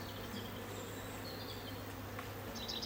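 Winter honey bees in mid-October woods buzz in a soft, steady drone, a few passing closer with brief rising whines over the constant hum.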